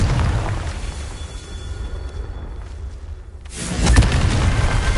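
A Confringo spell in the video game Hogwarts Legacy sets off a deep, rumbling blast, followed by a louder burst of fiery explosion noise near the end.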